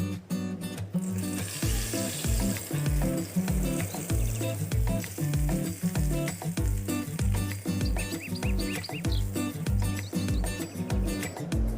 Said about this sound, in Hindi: अब हम अपनी चटनी के ऊपर तड़का डाल रहे हैं।